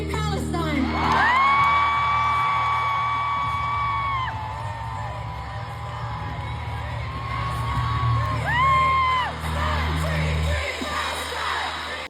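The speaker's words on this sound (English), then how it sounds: "Hearing an entire stadium of people standing in the pouring rain screaming "Fuck fascism, free Palestine,"" A packed stadium crowd screams and cheers in pouring rain, a sustained roar of many voices with rising whoops and yells throughout.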